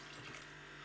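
Water poured into rye sourdough starter to dilute it, a brief steady splashing stream with a faint hum underneath, quiet and close.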